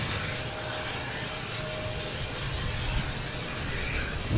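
A jet airliner takes off at Boston Logan Airport, a steady broadband engine roar that holds level and close for the whole stretch, with no voices.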